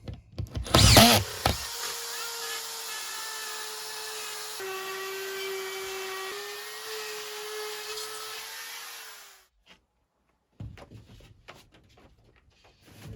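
A power drill whirs while driving a screw into drywall, a steady motor whine lasting several seconds that rises slightly in pitch before stopping, with clunks of handling before and after.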